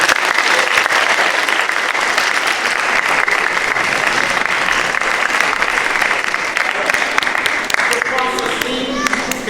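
Sustained applause from a church congregation at a youth mass, loud and steady throughout, with a few voices rising near the end.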